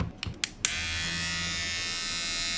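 A repaired Mi electric trimmer runs with a steady, even motor buzz after a few short clicks as it switches on, holding a constant level close to the mic with no talking.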